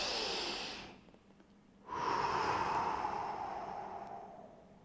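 Close, loud breaths during a body exercise session, a long exhale, a pause of near silence, then a strong sustained inhale or exhale that slowly fades, alone without talk.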